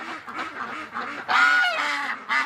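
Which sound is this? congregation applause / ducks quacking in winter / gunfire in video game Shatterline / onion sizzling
ducks quacking in winter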